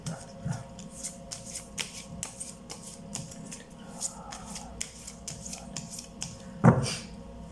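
Tarot cards shuffled by hand in a quiet room, a steady run of soft riffling flutters and slaps, close and moderately loud, with a sharper card snap near the end.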